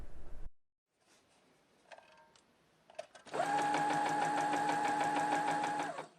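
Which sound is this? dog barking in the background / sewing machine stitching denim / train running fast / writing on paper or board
sewing machine stitching denim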